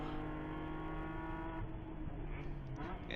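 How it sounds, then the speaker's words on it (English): Onboard a GP1 race car lapping Daytona during a WRL 14-hour endurance race, the engine holds a loud, close, steady drone with a strong harmonic whine, revs staying fairly constant throughout with a slight shift partway. "we're on board one of the GP1 cars"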